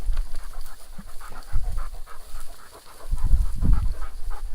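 Several dogs pant heavily close by outdoors in the desert, quick rhythmic breaths with soft scuffling, pausing briefly before a louder burst of panting toward the end.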